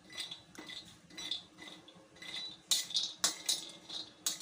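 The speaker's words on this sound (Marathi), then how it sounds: "आता यामध्ये मी टाकणार आहे बदाम, हे आपल्याला हलके हलके भाजून घ्यायचे आहे।" Almonds are stirred and roasted in ghee in a pan, with a metal spoon clinking and scraping against the pan in irregular knocks, louder toward the end.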